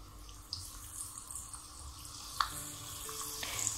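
Bitter gourd pieces deep frying in batches in hot oil in a kadai, a soft continuous sizzle and bubbling with a few sharper crackles as pieces drop in, fairly faint and without voices.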